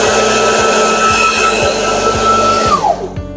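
A Raf R 3368 2500W electric meat grinder runs alone with a loud, steady motor whine and a regular rhythmic thump, then winds down near the end as the motor slows.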